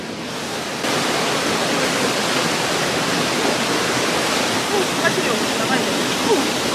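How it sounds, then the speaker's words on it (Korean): Small, weak waterfall at Dutayeon in Yanggu, Gangwon-do, giving a steady close rushing hiss of falling water throughout, with people's voices faintly mixed in. "폭포가 미약하게라만 있긴 있네"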